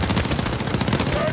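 Rapid, loud gunfire from Call of Duty: Modern Warfare, a dense burst of automatic shots rattling up close without pause.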